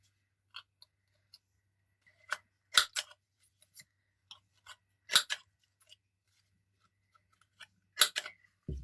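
Scissors snip around the corners of a paper craft belly band in three short bursts of close, crisp cuts, with faint scattered clicks of handling between them.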